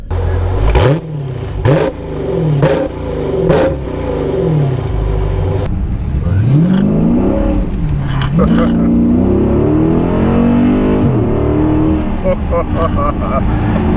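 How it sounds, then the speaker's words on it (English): A 2016 Camaro SS engine revving hard and accelerating through several gear changes, loud and close, with a person speaking over it. "That was a really nice acceleration right there."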